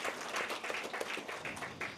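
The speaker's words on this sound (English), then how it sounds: "So let's give a round of applause to them for their time." Audience applause at a career fair, a steady wash of many hands clapping at moderate volume for about two seconds, with no voices over it.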